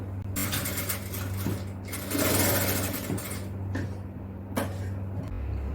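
A sewing machine stitches a designer inskirt, running loud and close with a continuous mechanical hum and rapid needle clatter, pausing briefly near the end.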